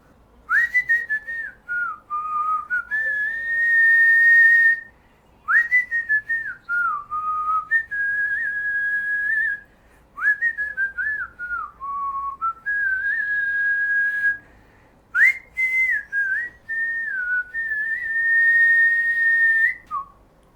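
A man whistles a tune, likely a traditional wedding verse melody, in clear sustained phrases with short pauses between them, close and loud with no talking.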